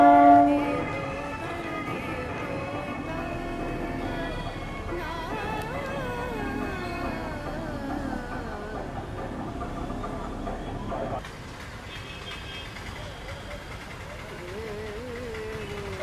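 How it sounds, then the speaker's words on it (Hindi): Trains and a horn at Madurai railway station in Tamil Nadu, with steady rail and engine noise, tonal horn or whistle lines sounding through the first half, then quieter station ambience after a shift near the end; faint speech is present. "ये सामने जो आप देख रहे हैं ये मदुरई रेलवे स्टेशन है।"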